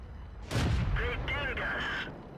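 An A33 Excelsior tank gun in World of Tanks fires one loud, heavy blast, followed by tonal game sounds as the shot rings off.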